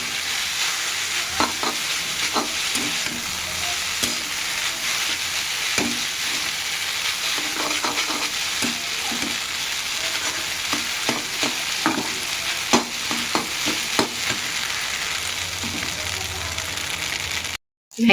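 Eggs get stirred into Maggi noodles frying in a pan: a constant close sizzle overlaid with scattered scraping stirring strokes, moderately loud and steady throughout.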